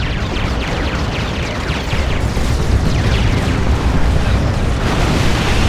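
Rocket run explosions in the Dawn of War 2 Retribution strategy game: a loud, dense barrage of booming blasts and crackling bursts rolling on without pause.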